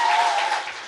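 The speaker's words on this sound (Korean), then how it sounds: "박수!" A studio audience applauds, a dense burst of clapping that starts at full strength and tails off slightly within a second.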